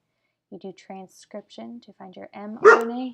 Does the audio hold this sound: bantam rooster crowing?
no